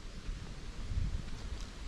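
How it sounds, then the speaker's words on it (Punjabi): Steady wind blowing outdoors in quiet Punjab countryside, buffeting the microphone with a continuous low rumble that swells slightly near the middle. No voices are heard. "ਇੱਕ ਬਹੁਤ ਹੀ ਵਧੀਆ ਆਵਾਜ਼ ਆ ਰਹੀ ਹੈ ਜਦੋਂ ਹਵਾ ਚੱਲ ਰਹੀ ਆ"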